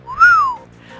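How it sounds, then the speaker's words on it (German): An impressed whistle from a character in Shadowrun Returns, a single clear rising-then-falling tone lasting about half a second, loud and alone. "Also, Johnny Clean gibt ein beeindrucktes Pfeifen von sich."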